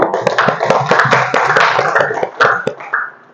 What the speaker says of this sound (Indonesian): Kita berikan aplaus dulu ya